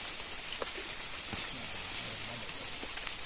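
Steady rain falls outdoors near a river in rural Borneo, a dense even hiss of drops filling the whole clip, with faint indistinct voices murmuring underneath.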